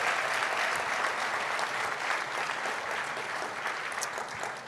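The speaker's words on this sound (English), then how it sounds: "Big round of applause for all those parents, all those friends, all those siblings." Graduation audience of parents, friends and siblings applauding at a secondary school ceremony, a sustained wash of many hands clapping that slowly tapers toward the end.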